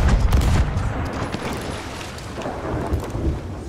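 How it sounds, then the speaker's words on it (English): Ship cannons firing in the pirate video game Sea of Thieves, heavy booming blasts rumbling in quick succession, loud and close, with a thunderous low roar throughout and no talking. "Somebody hop on that cannon to shoot."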